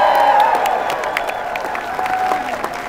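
Rally crowd in Victoria applauding and cheering, a dense steady wash of clapping with scattered whoops, loud and close, with no speech over it.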